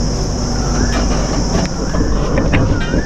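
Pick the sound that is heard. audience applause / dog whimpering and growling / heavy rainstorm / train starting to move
train starting to move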